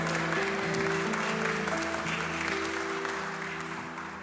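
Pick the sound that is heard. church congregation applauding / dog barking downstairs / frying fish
church congregation applauding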